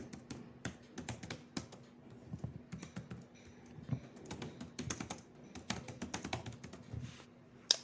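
Code being typed on a computer keyboard during a Python programming session, a steady run of close, crisp key taps with irregular rhythm and a few louder strokes, with no voices.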